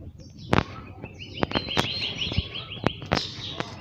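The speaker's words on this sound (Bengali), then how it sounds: "আপনারা কি পাখির ডাক শুনতে পাচ্ছেন" Birds call at dawn around a rooftop among mango and banana trees, with several sharp chirps and a warbling song at close to mid distance, mixed with a few sharp taps and clicks.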